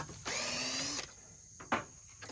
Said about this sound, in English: The drill's not dead.